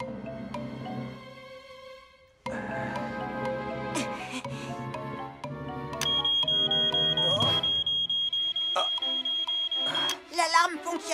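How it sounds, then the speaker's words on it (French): A smoke alarm in the Fireman Sam cartoon gives a long, loud, steady high beep over busy music, and a voice is heard speaking briefly near the end. "L'alarme fonctionne très bien,"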